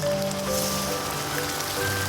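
Soy sauce sizzles hard in a wok of melted rock sugar and fried onions while braised pork rice is stir-fried, giving a dense, continuous crackling hiss close up.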